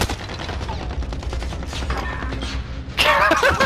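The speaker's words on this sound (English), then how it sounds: "This is an ambush of fucking bullets and fucking bro" Rapid bursts of gunfire in a multiplayer shooter game, a dense rattling fusillade of shots continuing throughout, with a sharper, brighter burst of action near the end.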